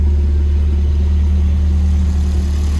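A Volvo with a 2.0 engine idles steadily, a loud, even low rumble with a constant hum that holds throughout and no revving, with no speech.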